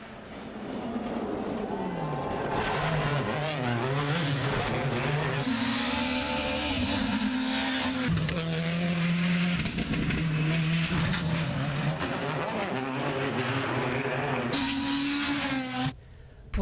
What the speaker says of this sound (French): Au loin, on entend le bruit des moteurs.